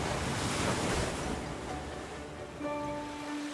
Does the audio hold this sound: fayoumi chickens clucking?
no